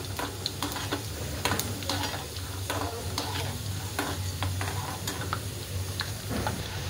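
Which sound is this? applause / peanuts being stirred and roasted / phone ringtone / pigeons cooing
peanuts being stirred and roasted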